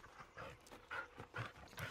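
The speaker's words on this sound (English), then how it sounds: "Good dog." A dog pants in quick, soft bursts of breath in the Blair Witch video game, faint and close, with no talking.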